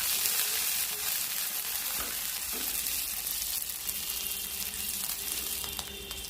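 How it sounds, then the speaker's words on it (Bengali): Onion and garlic fry in hot oil until browned, a loud, steady sizzle with occasional crackles and light stirring, continuous and close with no voices. "পেঁয়াজ রসুনকে আমি একটু বাদামি বাদামি করে ভেজে নেব।"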